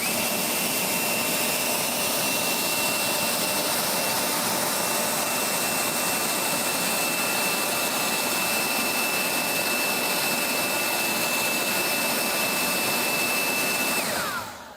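A Greenworks 60V cordless leaf blower, fitted with only its bare tube and no nozzle, running on high. It gives a loud, steady roaring whoosh with a high whine that holds continuously and then spins down at the end.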